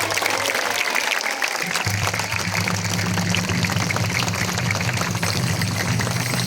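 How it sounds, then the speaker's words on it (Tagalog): A church congregation claps together during an Easter Sunday celebration, a steady broadband wash of many hands that continues throughout, with a low hum running underneath. "ay pumalakpak tayong lahat"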